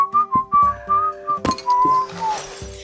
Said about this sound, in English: I think I remember that whistle. Is it from Assassin's Creed?